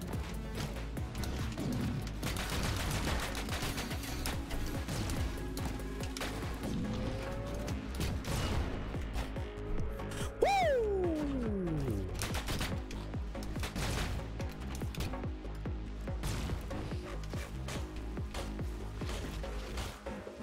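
Steady rapid gunfire in Orbital Bullet, a continuous rattle of shots mixed with game effects and a falling whistle-like tone midway, loud and unbroken throughout.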